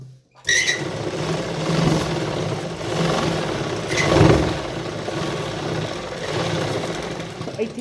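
A sewing machine runs continuously, stitching a garment seam, a close, steady mechanical whir with a rapid needle chatter that swells slightly in places and carries on alone without talk.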